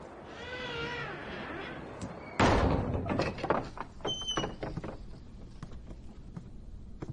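A door in a Chinese period drama shuts with a sudden loud thud, followed by fainter clatters and knocks. A wavering, cry-like tone comes before it.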